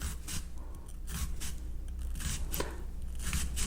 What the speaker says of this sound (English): I want to fine mince on this, so I'm just cutting down like this